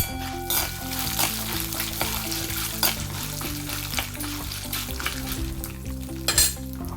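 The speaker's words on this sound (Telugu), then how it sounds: "పల్లీలు వేసి వేపుతూ పేలుతుంది చూసారా." Peanuts frying in an open pan, a dense crackling sizzle dotted with sharp pops and stirring scrapes, steady and close throughout with no talking.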